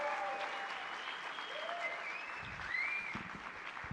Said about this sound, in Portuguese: Palmas para Edivan Funiô,